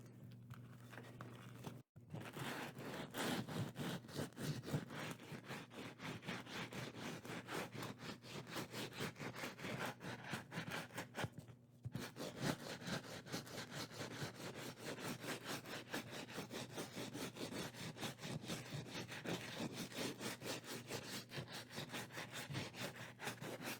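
Continuous rhythmic hand-sanding of wood with coarse 60-grit sandpaper, rapid back-and-forth scratchy strokes, close and steady, briefly pausing twice.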